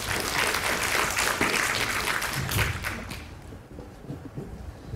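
An audience at an information seminar on overseas working holidays in New Taipei breaks into warm applause. The clapping is full and continuous for about three seconds, then thins out and fades into scattered claps and room noise.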